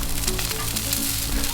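Bacon sizzles loudly and steadily in a frying pan, a dense close crackle with no talk over it.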